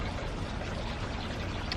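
A garden water fountain runs steadily beside potted plants outdoors, a continuous broadband splashing wash that stays even and moderately loud throughout, with no talking.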